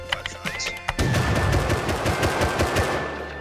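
Gunfire in the survival game Rust: a few scattered shots, then a rapid, sustained burst of automatic fire, loud and close, with sharp cracks in a fast steady rhythm and no voices.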